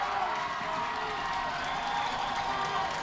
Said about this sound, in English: Little Chute fans in front of us cheering.